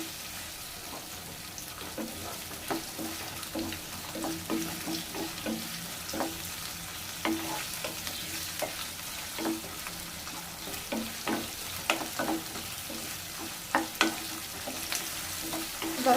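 Vegetables for chicken Manchurian fry in a pan at medium heat, giving a steady close sizzle with repeated scraping stirs throughout.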